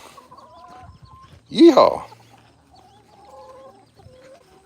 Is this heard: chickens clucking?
yes